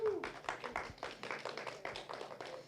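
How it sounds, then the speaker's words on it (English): An audience at a Killeen city council meeting gives a round of applause, a fairly faint, even run of overlapping claps that continues throughout. "So I'd like you to give them a big round of applause."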